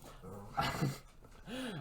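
Dogs are heard close by indoors, with a whimpering yip and then a short whining bark near the end. Soft vocal sounds sit between the calls.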